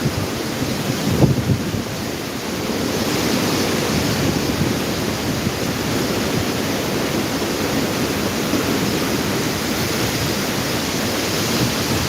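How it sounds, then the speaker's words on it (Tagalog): Strong typhoon wind during a signal 5 storm in Camarines Sur, Bicol, roaring as a loud, steady, broadband rush that buffets the microphone throughout, with no voices. "Ayan o, parang buhawi yung hangin."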